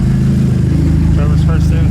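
A fully built, forged and sleeved SR20DET in a Datsun 510 cranks over with a fast, even starter chug, loud and close, with a voice briefly heard over it near the end.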